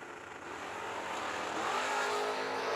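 Drag racing cars launch off the line at a Super Pro summer event, engines revving hard and climbing steadily in pitch and loudness as they pull away, with no talk over them.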